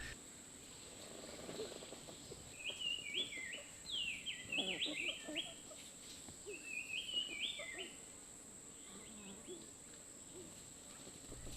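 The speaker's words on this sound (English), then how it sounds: "fantastic racket-tailed tree pies are here." Racket-tailed treepies call at a bird hide in Kaeng Krachan, Thailand, giving bursts of harsh, metallic chattering notes in two clusters, moderately near, over a constant insect drone and faint forest background.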